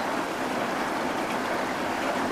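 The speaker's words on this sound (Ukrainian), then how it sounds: "У нас пішов ось такий дощик." Light rain begins falling outdoors near an apiary, a steady, even hiss of drops that fills the scene without pause.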